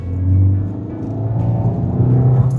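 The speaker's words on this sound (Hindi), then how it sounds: "अभी देखिए CNG में पिकअप, कुछ फर्क लग रहा है आपको?" A Maruti Suzuki Grand Vitara running on CNG accelerates, its engine giving a loud, steady rumbling drone that rises slightly in pitch from inside the car, with no speech.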